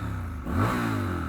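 Triumph Scrambler 1200 XE motorcycle, a 1200cc twin, revving up once from idle and holding a steady mid-range engine note, close by and fairly loud with no talking.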